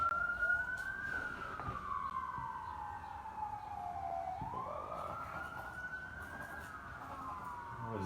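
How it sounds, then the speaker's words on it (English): A wailing emergency siren rises and falls in long slow sweeps, moderately distant and steady over a faint background hum, with no talking. "What does Dave Fields always say when the sirens are going off?"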